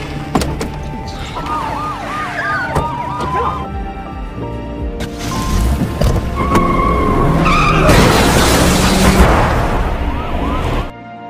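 A car pulled onto the road skids, tyres screeching amid a dense action-film mix of engine roar, wailing sirens and crashing noise, loud and close, with a blast of broadband noise late on.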